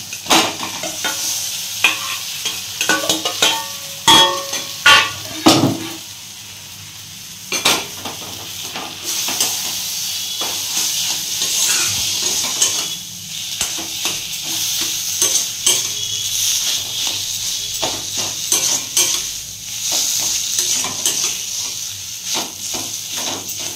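Turmeric and ground spice paste frying in a pan over a low gas flame, with a steady soft sizzle and repeated stirring and scraping of a utensil against the pot, close and continuous.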